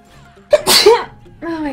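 A single loud human sneeze, close and sharp, with a brief intake before it and a short voiced sound trailing after.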